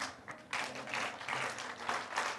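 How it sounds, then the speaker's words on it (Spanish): A church congregation applauds in a steady wash of clapping that swells after a brief start and carries on throughout, heard from a slight distance. "ya los escuché que están aplaudiendo"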